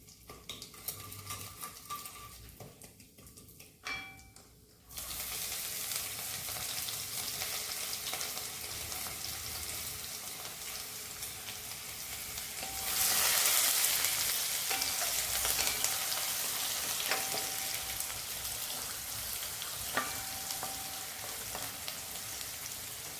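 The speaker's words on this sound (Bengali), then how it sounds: "রসুনটা একটু লাল করে ভেজে নিয়ে" Chopped garlic dropped into hot oil with asafoetida, which sets off a sudden sizzle that keeps going and grows louder partway through, with faint utensil clinks, for a dhaba-style spinach dish.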